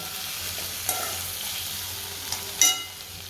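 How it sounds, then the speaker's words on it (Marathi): Ingredients fry in a little oil in a pan for an aubergine curry, with a steady soft sizzle and occasional scraping stirs, one sharper clink near the end, close and alone. "सगळं फ्राय करून घेते थोडंसं तेलामध्ये"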